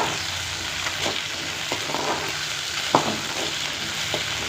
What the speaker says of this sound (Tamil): சுண்டைக்காய் வந்து நிறம் மாறும் வரை நல்லா வதக்கிக்கலாம்